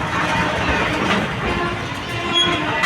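A train at Hubli railway station rolls by with a steady, loud rumble and a rhythmic clatter of wheels and cars that never lets up, with no talking over it.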